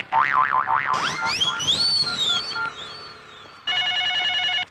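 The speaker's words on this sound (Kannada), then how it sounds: "ಯಾರ್ದಪ್ಪ ಫೋನು?" A telephone rings in an Indian comedy film scene: cartoonish springy boing effects come first, then a loud, steady electronic ring burst near the end, with no talk.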